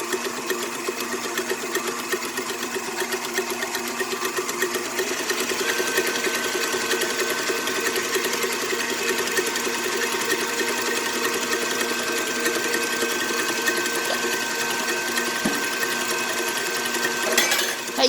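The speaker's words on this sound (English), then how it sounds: "It doesn't take very long in your KitchenAid stand mixer." A KitchenAid stand mixer whips coffee with a continuous motor whir and fast rhythmic beater hum, steady and close throughout.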